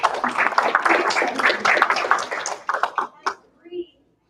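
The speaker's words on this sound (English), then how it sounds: "So let's give our team a big round of applause" An audience gives a team a round of applause at a session, a thick patter of clapping that thins into a few scattered claps before stopping.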